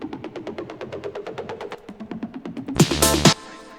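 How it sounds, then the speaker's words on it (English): A synth preset in a tech house remix produces a rising noise with delay and reverb, a pulsing train of repeated tones that climbs, then swells into a loud bright noisy burst near the end before cutting off. "it automatically kind of made this rising noise"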